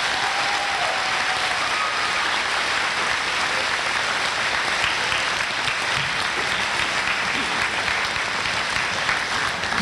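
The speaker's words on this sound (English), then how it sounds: "Please give these scholarship recipients and businesses a round of applause." Audience applause at the 99th annual Ste. Genevieve High School commencement, honoring scholarship recipients and businesses: a loud, dense, steady wash of clapping from a large crowd that fills the hall and never lets up.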